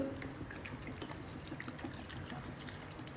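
Water pours into a pan of chilli fish gravy with a faint, steady trickling splash and a soft liquid gurgle, quiet and close, with no voices.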